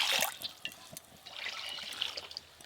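Water splashing into a pot for boiling eggs in a home kitchen, a short loud gush at the start, then fainter trickling and drips.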